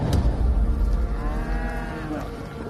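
Cattle on a ranch low outdoors, a drawn-out moo rising and falling over a steady low rumble of ambient noise, fairly close and loud, with no talk.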